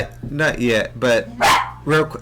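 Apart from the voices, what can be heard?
dog barking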